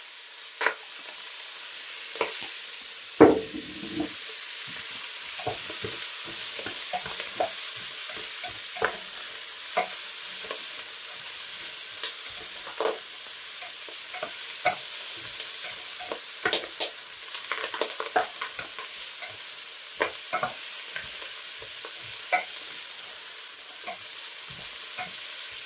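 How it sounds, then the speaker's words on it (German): Meat for Polish-style rouladen browns in oil in a pan, a steady close sizzle with frequent stirring clicks and scrapes and one louder knock near the start, no voices. "einfach auch wieder ein bisschen anbraten, dass die Röstaromen da sind"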